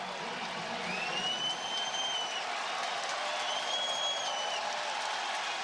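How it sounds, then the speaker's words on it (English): A stadium crowd cheers and applauds loudly and steadily at an NFL game between the Dolphins and Patriots as Patriots rookie quarterback Mac Jones runs onto the field, with faint whistles rising above the roar. "I just wanted to hear the crowd when he came running out on the field."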